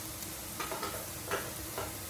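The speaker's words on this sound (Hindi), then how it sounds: "बस इन मसालों को हमने रोस्ट करना है।" Coriander powder and garam masala roast in a pan with a soft, low sizzle, broken by a few light scraping stirs at intervals.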